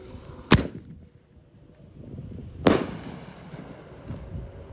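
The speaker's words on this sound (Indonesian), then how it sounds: "Peluru pelontar Roman candle warna kuning. Kita lihat reaksinya." A yellow Roman candle firework fires two sharp, loud pops about two seconds apart, each with a brief crackling tail, outdoors on a Ramadan night with low background noise between.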